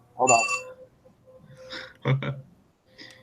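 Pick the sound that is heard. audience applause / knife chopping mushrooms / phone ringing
phone ringing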